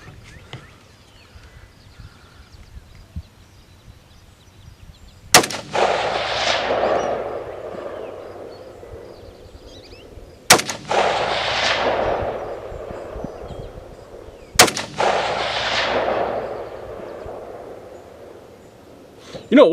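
A Ruger Precision rifle and an XCR fire at long range on the Fourth of July. Three sharp, loud shots sound several seconds apart, each followed by a long rolling echo, with faint background noise between them.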